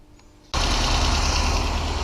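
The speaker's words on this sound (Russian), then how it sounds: "Сейчас завел двигатель, покажу вам, как ремень должен работать на заведенном двигателе." A VAZ 2108 car engine catches abruptly after a quiet half second and then runs loudly and steadily, a dense rumbling idle with a rapid rhythmic chatter, close by.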